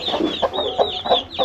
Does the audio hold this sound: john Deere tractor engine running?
no